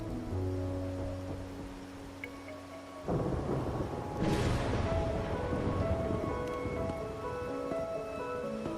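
Steady rain pours down in the video game Wuthering Waves, joined after a few seconds by a loud rumble of thunder that swells and lingers under the continuing downpour.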